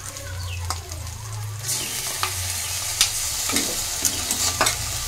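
Garlic paste stirred into onions already fried red-brown in a pan, close and steady, with a soft sizzle under it and occasional sharp scrapes of a spatula against the metal.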